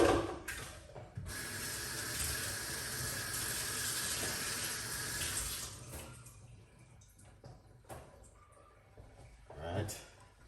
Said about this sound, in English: let's pour some water